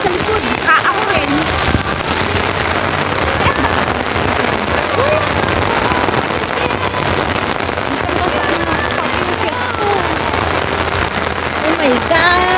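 Heavy rain pours steadily onto surfaces in a dense, unbroken hiss close by, with people's voices mixed into the downpour.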